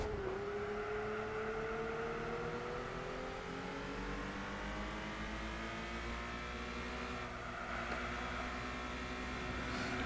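A race car engine in Gran Turismo 4 holds a steady, strained drone with a slowly rising pitch, continuous and fairly quiet, with no talking.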